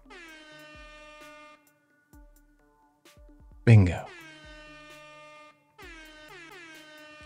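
A single loud air horn sound effect cuts in briefly between stretches of music, sharp and brassy, with a short spoken word beforehand.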